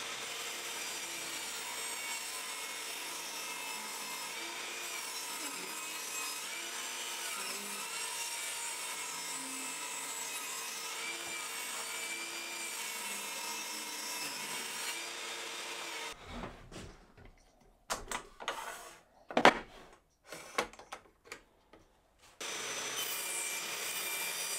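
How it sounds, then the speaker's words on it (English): A saw rips and cross-cuts glued-up wooden bed slats: a long, steady buzzing cut runs for about sixteen seconds, then gives way to choppy, irregular bursts of sawing and handling noise before the steady sound returns. "I can get the saw set up to the width of the box and rip a piece, and then do the same and cross cut a couple of bits"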